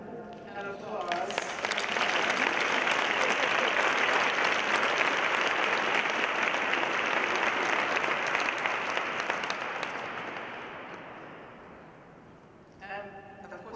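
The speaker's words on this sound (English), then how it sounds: "let's give Mumia an applause" Sustained audience applause at a talk on incarceration and resistance, dense and steady for about ten seconds before fading away, with faint voices near the end.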